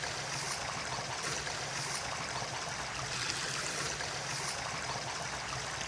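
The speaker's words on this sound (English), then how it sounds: "I'm going to take a look down the stream here, up there into that waterfall-like area." A stream rushes steadily toward a waterfall-like spot in grassy terrain, an even, unbroken wash of flowing water heard close with no voices.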